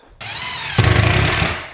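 A cordless power drill runs at full speed for a moment, then loads up as it drives a screw into a wooden climbing-wall frame. The whine turns into a loud rattling grind that lasts about a second.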